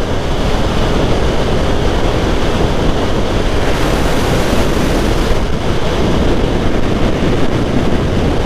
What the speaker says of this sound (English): Oh, it's windy again up here.